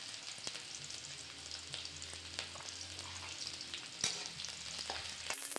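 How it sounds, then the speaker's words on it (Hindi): Garlic and finely chopped onion frying in mustard oil in a home kitchen, a quiet steady sizzle with occasional clicks and scrapes as the pan is stirred, no voices. "फिर चलाते रहना है। लहसुन हल्का ब्राउन हो जाए तो उसमें मिर्चा डालना है।"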